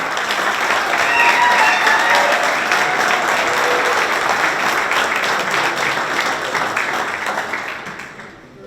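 Audience applause fills a banquet hall at a sports hall of fame induction dinner, a dense, sustained wash of many hands clapping that stays steady for several seconds and then tapers off at the end.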